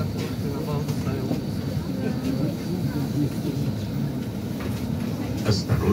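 New tram car 3310 rumbles along route 7 with a steady rolling roar and faint rail clatter. The noise is continuous and fairly close, with muffled voices mixed in.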